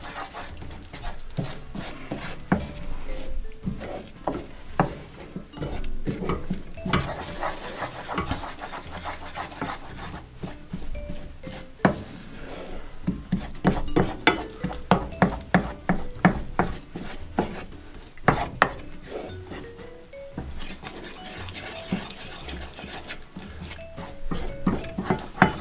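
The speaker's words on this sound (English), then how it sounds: "So you just give that a bit good stir in now." Spoon stirring a foaming sesame snap mixture in a pan, with repeated scraping and clinking strokes of utensil against metal in an irregular rhythm, close and fairly loud throughout.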